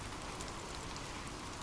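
Steady rain falls in a dense, even hiss that fills the whole moment without any pause, close and moderately soft, with no voices over it.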